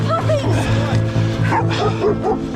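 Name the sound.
dogs barking at a mountain biker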